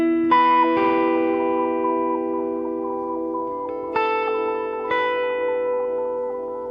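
A clean electric guitar plays sustained notes through a Boss GT-1000 delay effect with reverb off, each pluck echoing and trailing off without reverb wash.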